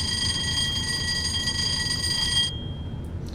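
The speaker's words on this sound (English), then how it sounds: "next test the fire alarm by pressing the fire alarm test button on the back wall" Fire alarm test in the cab of a Class 37 diesel locomotive in a train simulator game: a loud, steady high-pitched electronic tone over engine rumble, cutting off abruptly near the end while the low drone continues.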